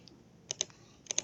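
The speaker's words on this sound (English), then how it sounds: "Type in your credentials for your Dropbox and" Keys on a computer keyboard clack in two small bursts of a few quick taps each, close and quiet, with a soft pause between them.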